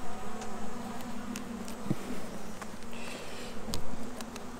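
Honey bees buzz around a hive brood frame as it is inspected, a soft continuous hum. A few closer bees drone by, and faint knocks and handling sounds come through.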